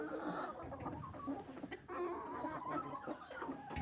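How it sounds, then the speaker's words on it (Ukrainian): Chickens cluck steadily at close range on a cold February day, a busy overlapping chatter of hens with faint farmyard background noise throughout. "Вон та курка."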